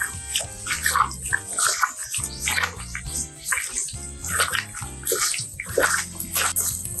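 Water poured and stirred into a soy sauce, fish sauce and brown sugar marinade for lemongrass chicken, a steady splashing and sloshing with clinks of a utensil against the bowl, close and fairly loud.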